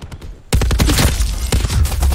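LMG gunfire in the video game Call of Duty Black Ops 4: a loud, rapid, sustained automatic burst of shots that kicks in abruptly after a brief quieter moment.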